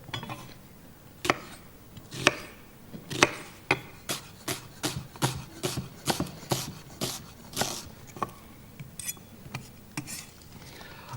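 A knife chops onions finely on a board in a kitchen, a run of sharp, fairly close taps that starts sparse and then settles into a quick, even rhythm, with no talk.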